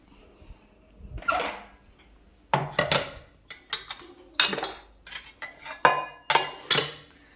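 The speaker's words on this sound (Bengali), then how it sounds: "চলো আমি বাসনগুলো এক এক করে সব সাজিয়ে নিই" Washed metal kitchen utensils and pots being stacked upside down one by one at home, a series of sharp clanks and rattling clinks in irregular bursts with short quiet gaps, close by, no talking.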